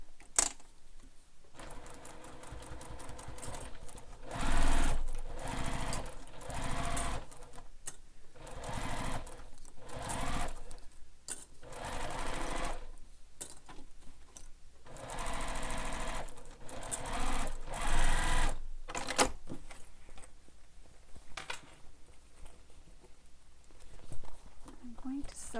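A sewing machine stitches a handheld bag, running in loud mechanical bursts of rapid needle chatter that start and stop repeatedly, close up, with a voice talking at times between runs.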